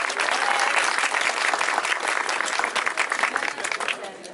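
An audience at a school opening ceremony in Bandırma, Turkey, welcomes a company chairman with sustained, close, energetic applause that begins to taper off toward the end.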